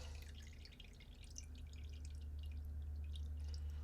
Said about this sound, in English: Let some of the Evaporust drip off here